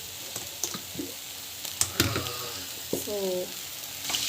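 Chili powder masala sautéing in oil for a dhaba-style paneer dish, with soft frying sizzle and stirring scrapes in short bursts, close and moderately loud, no talk.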